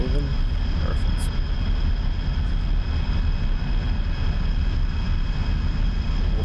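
A MiG-21 jet taxiing on the ground in the DCS flight simulator gives off a steady, loud engine roar and rumble with a high whine on top, while a person talks over it.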